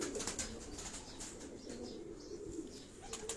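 Pigeons kept at a home loft in Karachi coo softly and steadily, a low continuous murmur with faint wing flutters and chirps, heard close up without talking.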